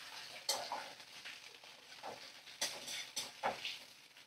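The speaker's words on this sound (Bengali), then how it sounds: "একটু ভালো করে ভাজা করে নেব চিংড়িগুলো।" Shrimp being fried in a wok: a soft background sizzle broken by several sharp metallic clinks and scrapes of a spatula stirring against the pan, no voices.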